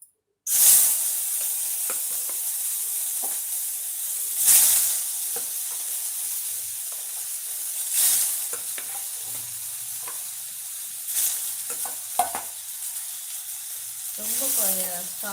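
Soya chunks (meal maker) lightly frying in a pan, giving a steady close sizzle and hiss with intermittent stirring scrapes and a few brief louder bursts, no one speaking.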